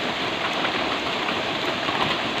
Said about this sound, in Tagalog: Sa lakas ng ulan po, puro baha po ngayon dito.